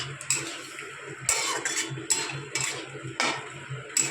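Fried paneer and vegetables being stirred in a cooking pan, a close series of irregular scraping clinks and knocks from a utensil against the pan, moderately loud, no talking.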